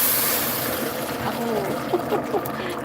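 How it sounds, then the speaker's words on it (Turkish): Hot water pours into a soup pot for a noodle soup, a steady splashing hiss that is strongest at the start and then thins out as a voice talks over it. "Sıcak suyumuzu ekleyelim."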